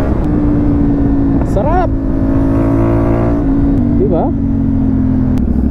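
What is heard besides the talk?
CF Moto 450 MT motorcycle riding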